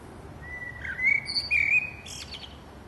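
Birds sing in a spring garden, giving a run of bright chirps and thin whistled trills at moderate loudness over a quiet background, with no voices.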